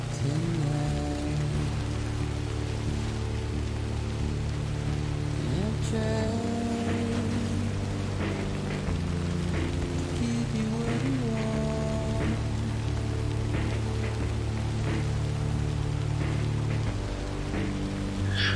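Steady timefall rain pours over an open, treeless landscape in the video game Death Stranding, a dense continuous patter that runs loud and unbroken under low musical drones and tones.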